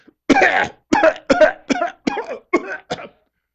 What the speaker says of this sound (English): coughed all over an entire bowl of candy